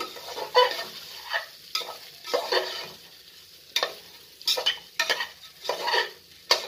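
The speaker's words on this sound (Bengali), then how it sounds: "আমি এটাকে ভালো করে ভেজে নেব। চালটাকে" Rice fried in a pan for paneer butter pulao and stirred with a utensil, giving close sizzling with repeated scraping bursts in an irregular rhythm and no voices.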